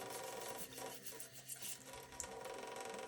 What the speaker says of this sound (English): Get all the junk out of there with an old brush.